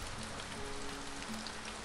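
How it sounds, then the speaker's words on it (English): Steady rain patters on a surface outdoors, a soft, even hiss throughout with no voices. "It's raining, let's go inside."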